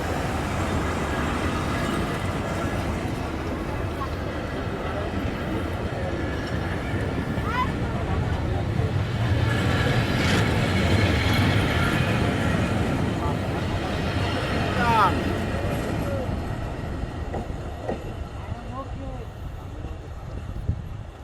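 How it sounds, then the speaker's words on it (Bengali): The Mongla Commuter train pulls away from Katakhali station with a long, steady rumble and clatter of wheels, loud and near throughout, while someone speaks over it. "আর চলে যাচ্ছে আমাদের ট্রেন মোংলা কমিউটার"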